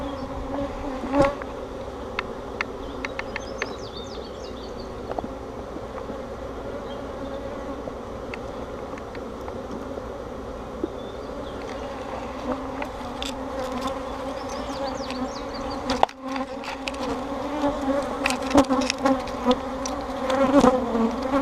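Honeybees hum in a steady, dense drone around an open hive during an inspection, with close individual bees occasionally zipping past over the continuous buzz.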